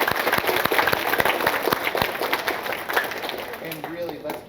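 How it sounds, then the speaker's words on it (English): A school audience claps in a sustained round of applause for a wellness support dog, dense and steady throughout, with a voice speaking faintly underneath. "Let's get another big round of applause."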